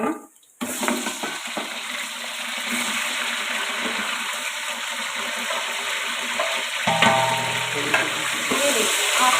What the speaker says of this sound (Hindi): अब हम इसमें चिकन ऐड करेंगे। मैं आपके सामने चिकन ऐड कर रही हूँ।